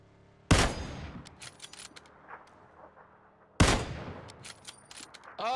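Gunfire from the video game PUBG booms in two loud, sharp blasts a few seconds apart, each trailing into a rattling echo.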